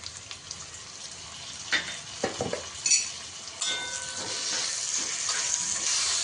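Chopped ginger is stirred through a Kerala-style chicken curry in a pan, with a quiet background sizzle broken by several clanks and scrapes of the spoon against the pan, growing into a louder hiss toward the end.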